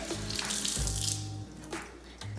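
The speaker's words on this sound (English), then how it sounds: "And we are gonna scrub, and it is clean." Tap water runs into a sink while a sweet potato is scrubbed clean by hand, with steady flow and brief splashing shifts, up close and with no voices.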